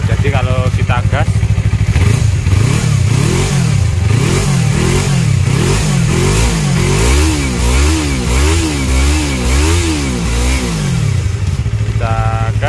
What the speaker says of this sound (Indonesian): kita gas masih suaranya masih halus ya, nggak berisik